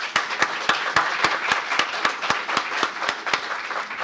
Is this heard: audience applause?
yes